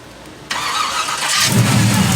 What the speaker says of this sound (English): I'll go ahead and start it for you guys so you guys can hear it.